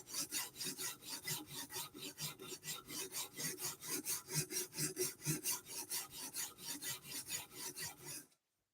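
A Microtech Stitch knife blade scrapes rhythmically across UKSG sharpening stones in about thirty even, close rasping strokes. The strokes stop abruptly at the end, and no one speaks.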